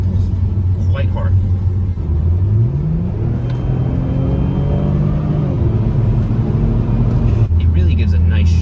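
Saab 9-3 Turbo X with factory exhaust accelerating hard, a loud continuous engine drone rising steadily in pitch through the gears, with a brief dip at the shift before climbing again, heard close and alone.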